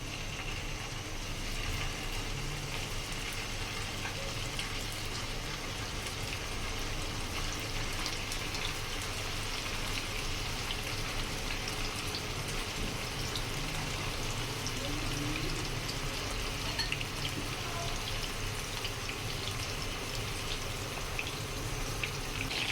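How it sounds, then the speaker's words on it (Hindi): Beef koftas frying in hot oil in a frying pan, a steady, continuous hiss and sizzle that stays even throughout at a moderate level. "एक साइड पे हमने फ्राई पैन में ऑयल डाला है। ऑयल हमारा जैसे गर्म हो इसके अंदर हमने रख देने।"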